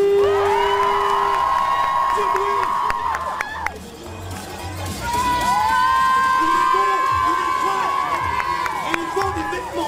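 A large crowd at the Paris Games Week 2018 convention cheers and whoops loudly and steadily for a guest, with a shout rising above and voices mixed through the din for the whole stretch.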